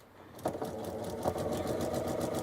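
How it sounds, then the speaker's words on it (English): A sewing machine stitches a diagonal point-to-point seam across a quilt block, a steady rapid mechanical whir and needle clatter that starts after a brief quiet moment and continues close and even. "You're sewing on the line or stitching on the diagonal point to point."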